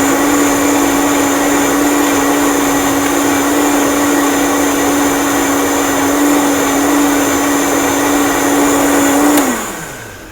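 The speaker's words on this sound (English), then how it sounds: "So I'm going to take a minute and blend this." A Vitamix blender whirs steadily at full speed while making lemon ginger tea, a loud continuous motor whine that holds for about nine seconds and then winds down as it is switched off at the end.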